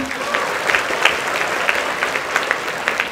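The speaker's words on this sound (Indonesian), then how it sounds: "Kita berikan tepuk tangan sekali lagi" A seated audience gives a talk's speaker another round of applause, many hands clapping steadily with individual sharp claps popping out of the dense, close crowd sound.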